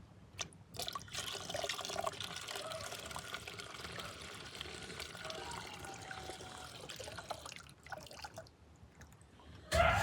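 Palm tree sap drips and trickles steadily into a container at night, a faint continuous liquid patter heard close by with no voices.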